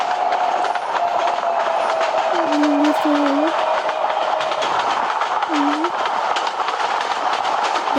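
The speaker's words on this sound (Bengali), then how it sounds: "আর একটা ট্রেন যাচ্ছে আমাদের পাশ থেকে" A train rumbles past in the video game Train Simulator Bangladesh, a steady loud wash of rolling noise with a constant engine drone and a few short, rising horn-like tones, no voice over it.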